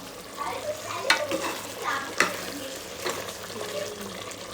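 A tadka tempering sizzles in a pan over rice for dum biryani, making a close, crackling fry with stirring scrapes and a couple of sharper pops.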